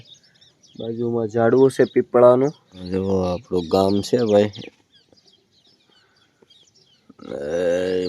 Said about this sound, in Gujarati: પાછળ પક્ષી બોલે છે